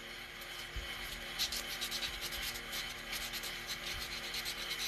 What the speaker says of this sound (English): Same thing with the sandpaper.